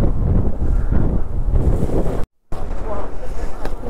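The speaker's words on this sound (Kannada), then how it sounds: "ಎಂಥ ಗಾಳಿ ಇದೆ ಅಂದರೆ" Strong wind buffets the microphone during a monsoon motorbike ride through fog in Kerala, a loud, rough continuous roar with one brief dropout.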